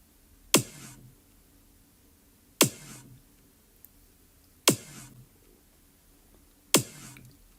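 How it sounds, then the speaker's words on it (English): Deep kick drum sample from the Launchpad iPad app, struck alone four times at an even, slow pulse about two seconds apart, each hit a sharp punchy thump with a short low boom. "It's a very simple drum sound."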